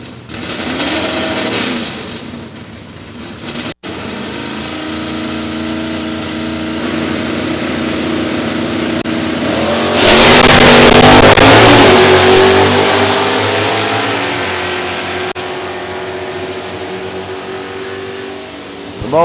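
A wheel-standing 1971 Dodge Charger with a 440 and a 1966 Ford Fairlane with a 390 run a drag strip at Beech Bend, loud engine roar rising in pitch as they accelerate, peaking midway, then fading slightly.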